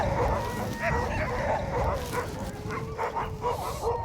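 Sled dogs resting after a run in the far north, barking and whimpering in quick, overlapping yips and whines, fairly close and continuous.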